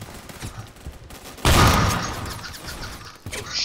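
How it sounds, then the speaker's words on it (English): Grenade explosion in the Phantom Forces shooter game, one sudden loud burst that rolls off over about two seconds, preceded and followed by scattered gunfire pops. "There's a grenade throw."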